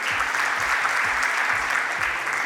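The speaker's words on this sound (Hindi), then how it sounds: "प्लीज जोरदार तालियां उनके लिए भी हो जाएं" An audience at a corporate award night in Surat claps loudly and steadily throughout, a dense wash of many hands close by with no pause.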